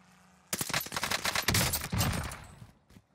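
Rapid bursts of automatic gunfire in a video game crackle for about two seconds, dense and sharp, then trail off into a few scattered shots, fairly quiet overall and with no voices.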